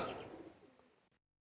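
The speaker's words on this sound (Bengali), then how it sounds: "আমি এই কবুতর দেখাচ্ছি" A pigeon at a pigeon market in Khulna, Bangladesh, gives a brief, soft coo against a noisy, rustling market background that fades out after about a second.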